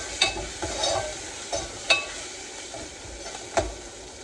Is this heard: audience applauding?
no